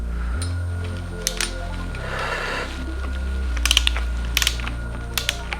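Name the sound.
torque wrench tightening on Yamaha YFZ450R engine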